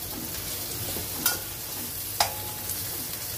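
Garlic and onion sizzling steadily in a pan while being stir-fried, a continuous crackling hiss with two brief sharp clinks of a utensil against the pan.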